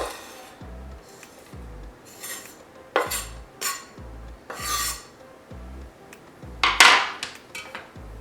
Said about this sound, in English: So let's add our jalapenos into our crock pot.